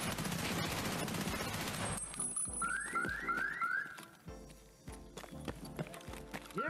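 Gunfire in a video game during a mall raid, a dense loud burst of shots at the start followed by scattered shots, footsteps and game effects at lower level.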